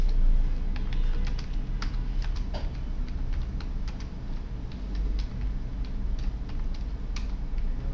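Java code being typed on a computer keyboard: quick, irregular bursts of light clicking keystrokes, close up over a low steady room hum, with no speech.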